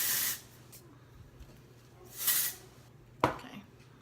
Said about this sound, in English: spray it all throughout your ends